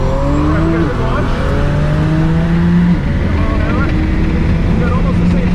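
Drag racing on a quarter-mile strip, with a Tesla Plaid and a twin-turbo 6.0L 240SX among the cars: loud, rising engine and motor drone under a car interior as the car launches and pulls hard, with rising tones shifting upward, and a voice talking over it.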